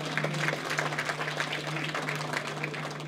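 Applause from an audience at a brochure launch event, a steady dense wash of clapping lasting a few seconds with a low hum underneath.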